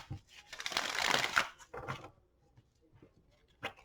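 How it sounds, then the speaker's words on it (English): Tarot cards are shuffled by hand, a close riffling burst lasting about a second followed by a few shorter card flicks and taps, with no talking. "Let's get 3 shuffles and lay out 5 cards for the last week of January for Taurus."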